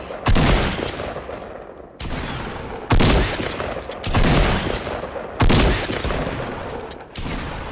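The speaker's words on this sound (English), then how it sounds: "See what I'm saying about all the missed shotgun shots?" Repeated shotgun blasts in the Fortnite battle royale, loud and close, firing in bursts about every one to two seconds with long echoing tails between shots.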